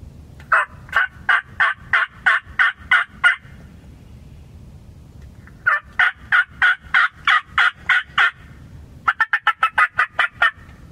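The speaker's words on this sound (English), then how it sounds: "I'm gonna let you hear what one sounds like." Gobbling from a handmade turkey call on an Illinois turkey hunt: three loud, close runs of rapid rhythmic gobbles separated by pauses, the last run quicker and more clipped, with no talking.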